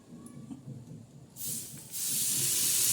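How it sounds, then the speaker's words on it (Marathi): Hot oil hits a spice mix for raw mango pickle with a sudden loud sizzling hiss, rising sharply after a quiet start and holding steady, close by. "आता बघा, हे तेल आपण टाकणार आहोत"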